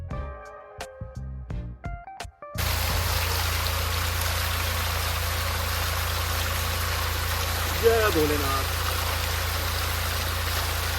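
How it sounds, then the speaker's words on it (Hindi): A cold mountain stream flows beside a roadside in the hills, a steady loud rush of water close by that starts abruptly after brief chanting voices. "रास्ते में ठंडे पानी का झरना दिखा"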